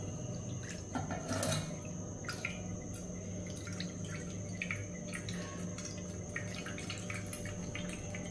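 Homemade hair oil, cooled after hours in an iron pan, drips and trickles through a thin cloth into a vessel, with faint, irregular small drips and splashes over a low steady background hum.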